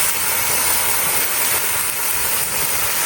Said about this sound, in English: I'm going to cook this slowly to render out the fat